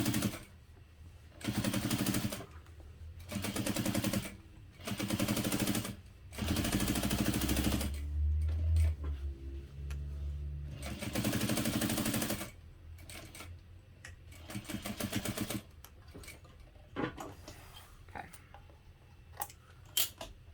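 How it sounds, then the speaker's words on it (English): Sewing machine stitching across the bottom of a hobo bag with a 1/8 inch seam allowance, in several loud rapid bursts with short gaps, then quieter intermittent stitching. "first I think I'll sew across the bottom"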